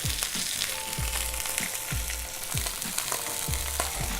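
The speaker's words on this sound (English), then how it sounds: "Hear that sizzle." Loud, constant sizzling of beef cheek frying in a hot pan, with soft periodic scraping or stirring thumps roughly every half second.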